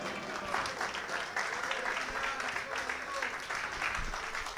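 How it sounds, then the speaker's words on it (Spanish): A church congregation on its feet during a Sunday morning service applauds steadily, a continuous wash of clapping from a large room at moderate distance, with voices mixed in underneath. "¿Cuántos pueden aplaudir a Jesús en esta mañana?"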